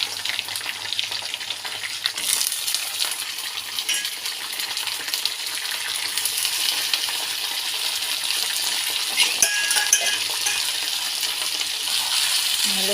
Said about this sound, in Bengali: এখন আমি আস্তে আস্তে করে চিকেনগুলো দিয়ে দেবো।